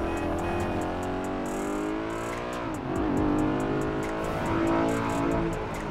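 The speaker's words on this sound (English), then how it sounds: "Boy jumped in a drop top BMW joint." A drop-top BMW convertible drives in GTA 5, its engine note steady and revving up through gear changes, loud and close with music-like tones layered over it.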